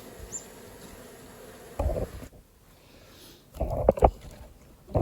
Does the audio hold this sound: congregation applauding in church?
no